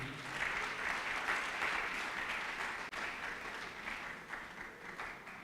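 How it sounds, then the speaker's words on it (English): Sustained applause from a large conference audience, dense and steady throughout, with no voices standing out above it. "A better round of applause for the DG."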